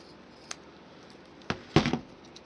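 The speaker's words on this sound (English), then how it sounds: "Just need to trim it down just a hair." Scissors snip a paper moustache in two or three short, close cuts, the last one a longer crunching slice, with faint room tone between and no talk.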